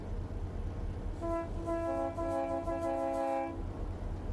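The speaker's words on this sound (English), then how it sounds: "Can I blow the horn?" A train horn at the Nevada State Railroad Museum in Boulder City sounds one sustained, chord-like blast lasting about two seconds over a steady low engine rumble.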